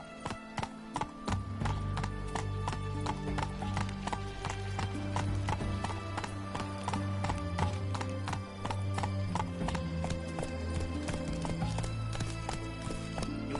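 A horse gallops in The Witcher 3: Wild Hunt on PS5, steady rapid hoofbeats with tack jingles running throughout over a low musical drone, loud and continuous.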